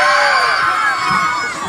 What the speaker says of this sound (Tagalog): Palakas na sigawan!